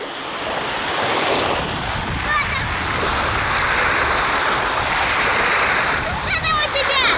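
Sea waves wash and splash onto a sandy beach by the dunes at Anapa, a steady close roar of surf with heavy wind buffeting the microphone throughout.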